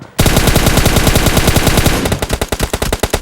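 Rapid automatic gunfire in the mobile battle game PUBG Mobile, a loud, dense burst of shots that slows into spaced single cracks near the end, with no talking.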